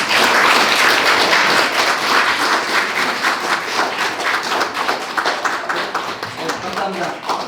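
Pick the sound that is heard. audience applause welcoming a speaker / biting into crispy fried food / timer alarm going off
audience applause welcoming a speaker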